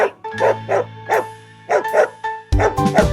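A voice sings a barking imitation, repeated woof-like syllables in a rhythmic tune over music, ending with louder accompaniment.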